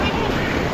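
Sea waves break and wash steadily along Diveagar beach on the Konkan coast, a loud, continuous roar of surf with wind buffeting the microphone.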